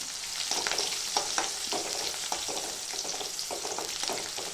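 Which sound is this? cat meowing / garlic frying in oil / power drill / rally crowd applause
garlic frying in oil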